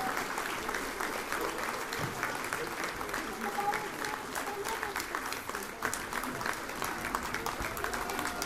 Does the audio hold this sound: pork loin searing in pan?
no